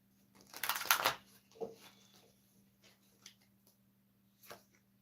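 A quick riffle of tarot cards being shuffled, soft and close, followed by a few faint taps and rustles in a quiet room.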